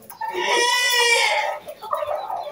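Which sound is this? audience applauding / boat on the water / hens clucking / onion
hens clucking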